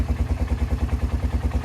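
A four-wheeler ATV engine idles steadily after a repair, a close, even low-pitched putter with regular pulses and no surging or voices.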